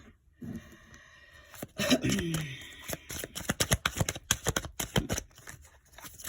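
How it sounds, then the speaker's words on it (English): Oracle cards are shuffled by hand in a long run of crisp riffling and rapid flicking bursts, loud and close, with a person speaking briefly before the shuffle begins. "One more good shuffle."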